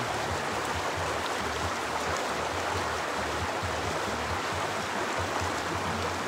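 River water flows at an outing spot in a continuous, fairly loud rushing babble with dense broadband texture and no pauses or voices.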